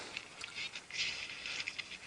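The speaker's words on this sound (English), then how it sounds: "Otherwise all we can hear is Jeandré's rain jacket" Nylon-like rustling from a rain jacket brushing against an open microphone on a live safari drive, made of soft, quiet, irregular crinkles and scrapes that continue throughout.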